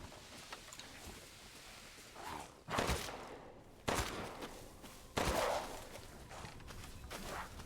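Gunfire in the Resident Evil Village video game, a few heavy booming shots spaced a second or more apart, each with a rumbling tail, over a low ambient game background.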